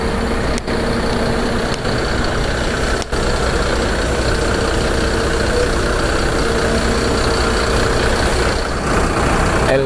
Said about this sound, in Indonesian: LBJ Transport Panglima Bus memakai sasis Mercedes-Benz OH 1626 air suspensi